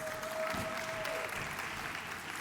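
A startup-conference audience on the South Summit Bogotá playground stage bursts into dense, sustained applause that fills the whole stretch at steady loudness, with no voices on top.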